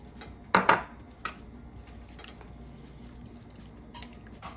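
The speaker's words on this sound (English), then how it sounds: "I'm going to stir in my parsley" Parsley being stirred into hot Asian vegetable soup in a pot: one sharp utensil clank against the pot near the start, then a softer knock and quiet faint scraping.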